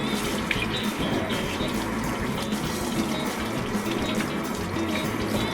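Tap water runs steadily and loudly as aquarium filter parts are rinsed under it in a sink, a continuous rushing splash with no talking.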